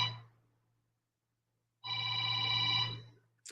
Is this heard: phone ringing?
yes